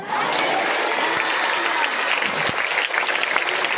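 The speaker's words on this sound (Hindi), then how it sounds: "ताली बोलो हालेलुया।" Congregation clapping at a Hindi church sermon, a loud sustained burst of many hands with a few louder claps and possible murmured voices beneath.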